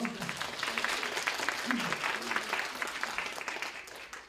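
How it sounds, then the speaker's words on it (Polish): Audience applause at a two-day permanent makeup seminar, steady dense clapping from a crowd lasting throughout, moderately loud with some background murmur. "Brawo."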